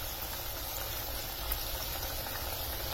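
Moong dal mathri deep-fry in hot oil, giving a steady bubbling hiss that stays even throughout at moderate loudness over a low rumble, with no speech.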